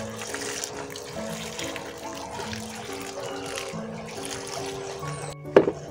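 Water poured to soak soil in bags for grape cuttings, a steady trickling and splashing flow heard close by, ending in a brief louder splash or knock, with background sounds beneath.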